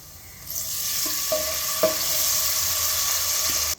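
Lemon juice with salt hits a hot pan of tempering for lemon rice just after the stove is switched off, setting off a loud steady sizzle that rises sharply and holds, with a couple of faint clinks of stirring.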